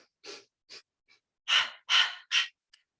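Breathing during a standing Pilates mat exercise comes in a series of close, soft, airy breaths. Short puffs are followed by three stronger, longer exhales, with silence between and no speech.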